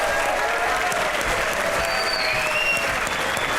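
A studio audience on a comedy talk show bursts into loud, dense applause that holds steady and close for the whole stretch, with no speech over it.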